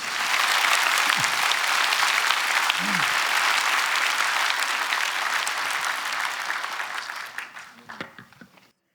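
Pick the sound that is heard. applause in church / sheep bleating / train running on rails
applause in church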